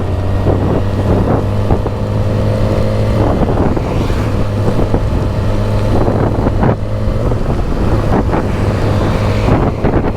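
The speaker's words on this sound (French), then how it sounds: "Mais c'est fou en fait, vu comment le vent il souffle en fait." Strong wind roars steadily against the microphone, mixed with a constant engine drone, loud and unbroken throughout.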